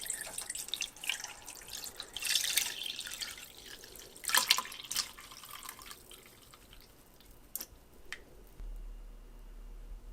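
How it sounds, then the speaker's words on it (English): Cooking liquid from an Instant Pot Duo Nova being strained, a quiet trickle and dripping of liquid with a few louder splashy pours, close and with no talk. "I'm going to strain the liquid"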